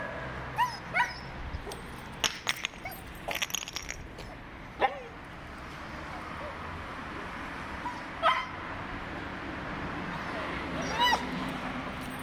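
A Siberian Husky on a night walk whimpers and gives several short yips in scattered bursts, fairly close against a low steady background hum.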